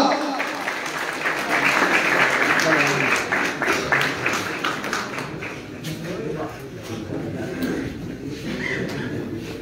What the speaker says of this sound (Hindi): आपकी तालियों में खान जुमाबाद।